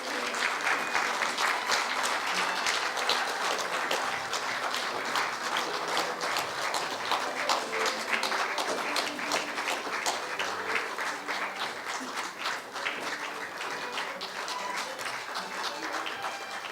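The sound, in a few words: applause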